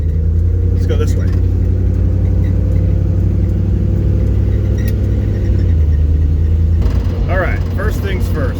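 Classic car cruising onto a highway, a loud, constant engine rumble and road drone from inside the cabin, with a voice talking over it in places.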